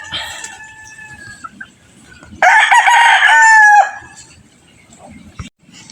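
Sweater white-leg gamefowl stags in a rooster yard, one loud close crow rising and falling over about a second and a half, with fainter crowing before it and soft clucking and rustling around.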